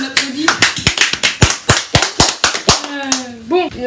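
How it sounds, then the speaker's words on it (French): A few people in a casual French live-stream quiz give sharp, close-up claps in an uneven run of about a dozen, with voices speaking over them and after them. "On applaudit."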